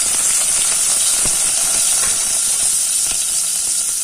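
Onions and green chilies hit hot oil for a gongura prawn dish, producing a loud, continuous, close-up sizzling hiss that stays even throughout.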